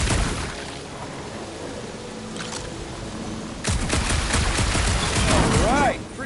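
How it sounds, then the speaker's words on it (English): Gunshots strike a gunked-up reactor in Guardians of the Galaxy, a loud rapid volley of blasts after a quieter stretch with a voice speaking, ending with a rising whining tone. "A couple of shots should bring it down."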